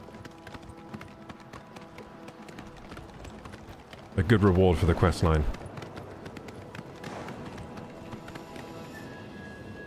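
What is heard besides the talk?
horse Shadowmere galloping, from video game Oblivion Remastered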